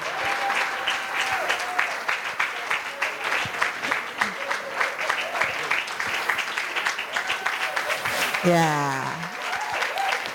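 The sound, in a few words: audience applause welcoming a speaker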